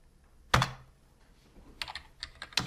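Keys tap on a computer keyboard while problems are entered into an electronic patient record, starting with one loud thunk followed by scattered clicks and short typing bursts.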